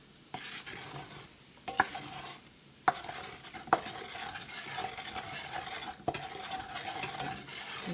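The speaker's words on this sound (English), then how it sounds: "Cooking in this bacon grease." Chicken sizzles and fries in hot bacon grease in a pan, a steady crackling hiss broken by repeated scrapes and clinks of a utensil stirring.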